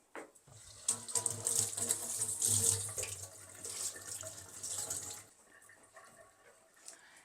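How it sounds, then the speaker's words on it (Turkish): A spice container being washed under a running kitchen tap, water splashing and gushing steadily for several seconds with shifting tone as the container is turned, then cutting off to faint drips and handling sounds. "Şimdi bir yıkayayım."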